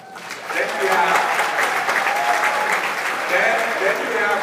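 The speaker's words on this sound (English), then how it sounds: "Give them a round of applause." Audience applause at a financial convention breakout session swells quickly and holds as a thick, even wash of clapping from a sizable crowd, with voices faintly audible beneath it.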